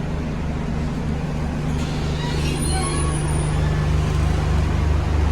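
An old, rattly bus with 336,509 miles on it drives along, its engine a steady low drone with faint rattles and road noise, running continuously and close.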